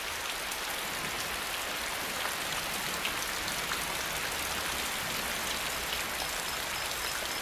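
Steady, dense rain falls on an Asian tropical rainforest, a constant hiss of drops on leaves and surfaces that holds at an even level throughout without any voices.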